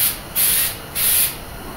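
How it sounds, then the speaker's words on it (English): Two short bursts of aerosol spray hiss out close by, each lasting about a third of a second, separated by a brief pause. "And this stuff seems to spray really nice."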